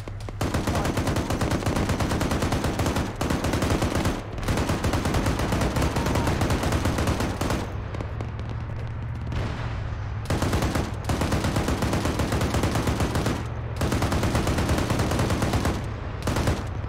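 Sustained, loud automatic gunfire rattles almost continuously in long bursts, broken only by a few brief pauses, with a dense crackle over a low rumble.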